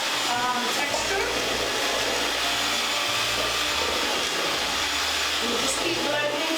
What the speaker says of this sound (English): And you just keep blending to add the rest of the flour.